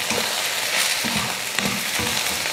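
Ivy gourd stir-fried in a pan, a steady close sizzle with soft scraping stir strokes at intervals, no talk over it.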